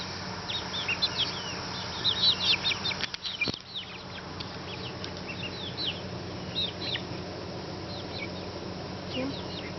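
Backyard chickens foraging for swarming insects, with bird calls and short chirps scattered across the clip, a burst of wing flaps and scuffling near the middle, and a steady insect-like hum underneath.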